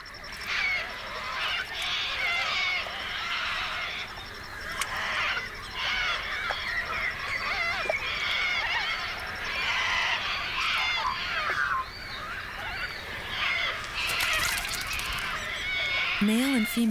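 A flock of noisy corellas squawks and screeches continuously while bathing in the Australian wild, harsh overlapping calls dense and near, with a voice briefly heard.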